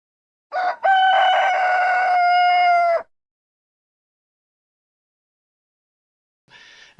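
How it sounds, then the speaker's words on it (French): A rooster crows once, loud and close, a long drawn-out call, followed by silence and then the start of another crow. "un coq, ben, ça exprime son opinion le matin, quand le soleil se lève."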